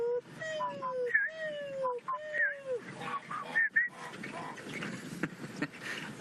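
A person imitates safari bird calls: a run of whistled, swooping vocal hoots and honks with short gaps between them, fairly close, followed by a stretch of murmuring voices.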